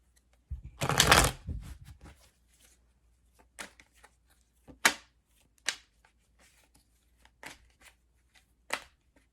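Tarot cards being shuffled: one long riffle burst, then several short, crisp card slaps and flicks spaced out in a quiet room.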